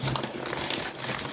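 A mail package is ripped open by hand, a short, close crinkling tear of paper or plastic packaging lasting about a second.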